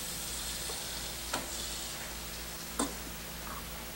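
Butter sizzles quietly in a frying pan with a steady low hiss, broken by two faint ticks or taps of a utensil.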